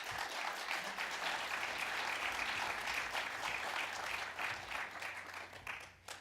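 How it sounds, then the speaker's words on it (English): A summit audience applauds to welcome explorer Bertrand Piccard, chairman of the Solar Impulse Foundation, with a full, steady burst of clapping from many hands that holds for several seconds and then tapers off. "please give him a warm round of applause"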